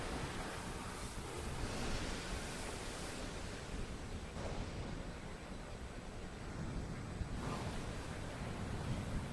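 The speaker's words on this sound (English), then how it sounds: "Just waves." Steady ocean surf from a Legend of Zelda game trailer, a continuous broad wash of breaking waves that swells and recedes at a fairly even level, with a breezy airy hiss on top and no voices.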